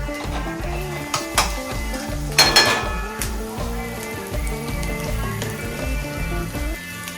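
Boiled noodles tipped into a pan of fried vegetables for desi Hakka noodles and stirred, with a sizzle under steady tonal background music, a couple of sharp utensil clinks and a brief louder burst of frying near the middle.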